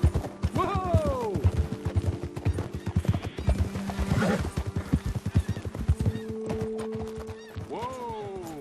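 Horse hooves clip-clop steadily while riding in Red Dead Redemption 2, mixed with neighs and whinnies, sustained tonal game sounds and a voice talking over the rhythmic hoofbeats.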